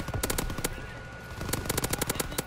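Rapid machine-gun bursts from an enemy strafing run in a World War II video game, sharp repeated cracks in two clusters, loud and close, with no talk over them.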